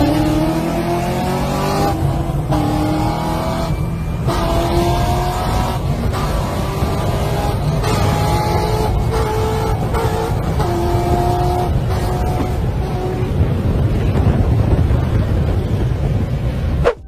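A Corvette C06 drag racing a V8 Camaro on a drag strip, with loud, continuous engine roar and rising revs through the gears, plus wind buffeting on the microphone, and no talking.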